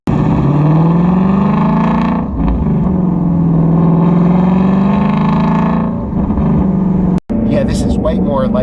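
A Shelby GT350R Mustang in sport mode accelerates hard in a loud, continuous engine roar heard from inside the car, pitch climbing and dipping through gear changes, with a sharp break near the end.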